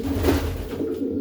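Cooing from a cock racing pigeon held in the hand, a low, steady murmur running through the whole moment at close range with no talk over it.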